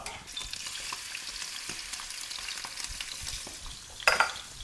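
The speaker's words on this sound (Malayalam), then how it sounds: "വെരി ഹോട്ട് പാൻ, കുറച്ച് ഗീ. നമ്മുടെ പാൻ നല്ല ചൂടായി വരുന്ന സമയത്ത് chicken skin side down first കേട്ടോ." Chicken pieces are laid skin side down in ghee in a very hot pan, giving a continuous soft sizzle with faint scraping and a brief sharp clink near the end.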